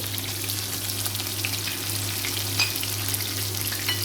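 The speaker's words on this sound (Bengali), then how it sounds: "এখন পেঁয়াজ কুচিগুলো পুরোটা দিয়ে দিচ্ছি, তারপর রসুন কুচিগুলো দিয়ে দিচ্ছি" Chopped onion and garlic frying in hot oil after fish, a steady dense sizzle close by with light stirring and a constant low hum underneath, no voices.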